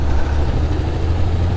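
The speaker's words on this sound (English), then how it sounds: "these big trucks coming in" Big trucks rumble past in morning traffic in Johannesburg, a close, deep, steady engine drone with no talk.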